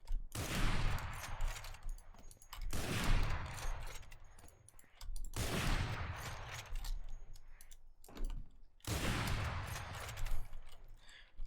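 Gunfire in the video game Valorant comes as four long, dense bursts of rapid shots, each lasting about two seconds with short gaps between them, loud and close.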